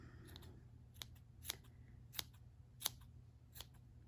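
Scissors snip crochet yarn close by, cutting off ends of a no-sew chunky bunny over a trash can; about six sharp, separate cuts come at a steady pace over a low steady hum.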